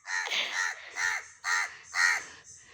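Crows caw harshly four times in a steady, evenly spaced series, close and loud, each call rasping and slightly drawn out, with no other sounds between them.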